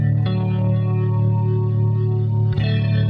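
An electric guitar played through a Twin Reverb amp simulation rings out in sustained, chorus-tinged chords, loud and close, with a fresh strum near the start and another near the end.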